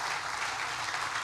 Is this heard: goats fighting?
no